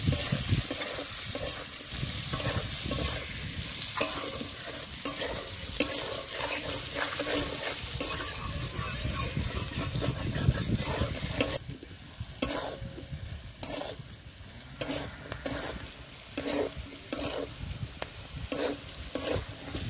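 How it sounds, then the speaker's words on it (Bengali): Potatoes and prawns are stir-fried in a curry masala with turmeric and slit green chillies, giving a close, steady sizzle with scraping stirs. The sizzle thins out toward the end into intermittent scrapes and clinks. "এক চামচ হলুদ গুঁড়ো, চেরা কাঁচা লঙ্কা, এবার আবারও কিছুক্ষণ কষে নেব।"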